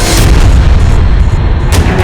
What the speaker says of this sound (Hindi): अब तुम्हें धमाका करने से कोई नहीं रोक सकता